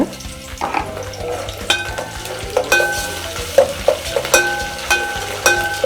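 Soya chunks fry with ginger garlic paste in a pan, stirred by a spatula scraping and tapping the metal in repeated strokes over a continuous close sizzle.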